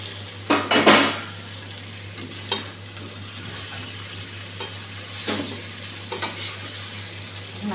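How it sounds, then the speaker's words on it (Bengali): Eggplant pieces fry in a pan of oil with a low, steady sizzle, broken by a few louder bursts of stirring and clinks of a utensil against the pan, especially near the start. "এখন বেগুনগুলা দিয়ে দিচ্ছি"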